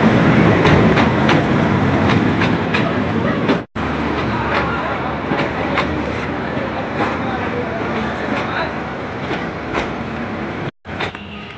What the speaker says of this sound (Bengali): তো শীতলক্ষা থেকে রেল এসেছে।